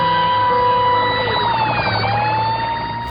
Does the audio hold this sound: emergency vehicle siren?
yes